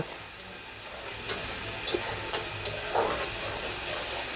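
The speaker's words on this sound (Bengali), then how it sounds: "এখন পেঁয়াজ ভাজা আর ভাজতে হইব।" Sliced onions with salt fry in hot oil in a pan for a Bengali pabda fish curry, giving a steady close sizzling hiss with a few soft stirring clicks.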